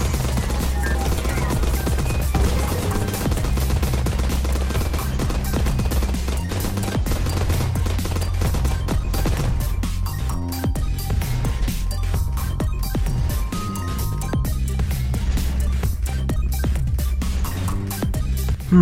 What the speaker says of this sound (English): all these explosions going on all at once